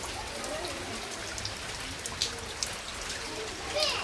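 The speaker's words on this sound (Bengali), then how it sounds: "বৃষ্টি কিন্তু থামাথামি নাই, বৃষ্টি হচ্ছে।" Rain falls steadily over flooded Dhaka city, a continuous close hiss of drops striking water and surfaces with a few sharper splashes scattered through it.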